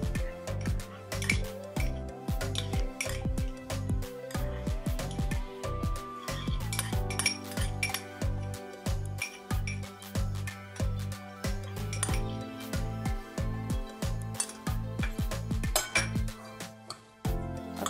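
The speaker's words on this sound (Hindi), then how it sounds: "अब सबको अच्छी तरह मिक्स कर लेंगे।" Cabbage, apple and mayonnaise salad being mixed in a bowl, with repeated clinks and taps of a utensil against the dish in an irregular rhythm, close and moderately loud throughout with background music.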